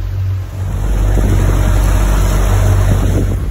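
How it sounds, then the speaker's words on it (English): A boat with a new Mercury 150 HP four-stroke outboard engine runs during break-in, its engine drone steady and loud under rushing wind and water, briefly dipping before holding an even pitch. "we just left TNT Marine Center with a new Mercury 150 four strokes and we're about to begin the break-in process"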